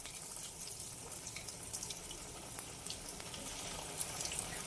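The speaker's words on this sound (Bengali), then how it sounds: "রোলগুলো আমরা লাল করে ভেজে নেব" Aloo cheese rolls sizzle in hot oil in a kadai over low to medium heat, giving a steady, close hiss of dense crackle with no voices.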